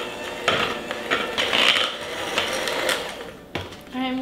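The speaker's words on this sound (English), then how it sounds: "I'm going to go ahead and use my hand mixer" An electric hand mixer whirs through vegan batter in a bowl, with a steady motor hum broken by rattling bursts as the beaters knock the sides, close and fairly loud, and no talking.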